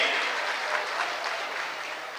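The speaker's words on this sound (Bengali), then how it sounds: "জোরে জোরে দেবের জন্য একটা হাততালি দিন" An audience at a political rally applauds, a dense sustained burst of clapping from many hands, loud and fairly close, tapering slightly over a couple of seconds.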